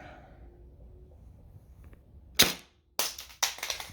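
An airsoft gun fires three sharp, snappy single shots about half a second apart after a quiet stretch, close and loud.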